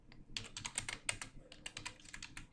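Rapid, irregular clicking of typing on a computer keyboard, close and fairly quiet, with no other sounds.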